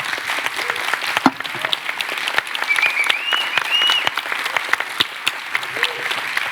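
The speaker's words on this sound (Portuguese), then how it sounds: "un fuerte aplauso a los 3 panelistas" A conference audience at a panel on freedom in Latin America gives sustained applause for three panelists, steady clapping with scattered whoops and voices, fairly close and loud throughout.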